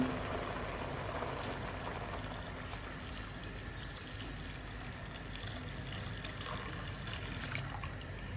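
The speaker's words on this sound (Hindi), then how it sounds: "अब हम इसमें ऐड करेंगे दूध।" Milk poured into a cooking pot while making talbina, a steady liquid stream and gentle gurgle lasting several seconds, fairly faint and close, with no speech.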